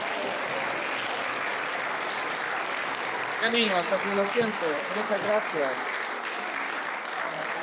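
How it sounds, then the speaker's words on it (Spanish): Sustained applause from an audience for children after a piano demonstration in a lecture on keyboard mechanisms, steady throughout, with someone speaking over it partway through. "Un aplauso para los niños."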